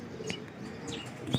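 Pigeons coo softly from a loft of prized breeder birds, with a couple of brief low calls and light chirps rising over a steady background hum.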